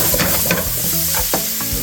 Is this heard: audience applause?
no